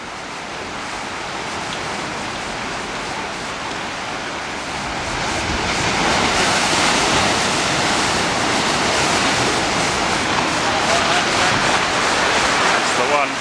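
Rough sea surging against a rock pool cut into a cliff face, a continuous loud roaring wash of breaking waves that swells and grows heavier midway, with no voices.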